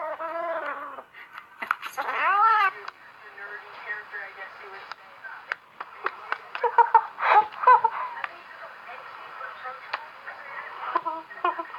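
A cat meowing close by, several drawn-out rising and falling meows near the start followed by shorter chirps and clicks, fairly quiet and with no talking.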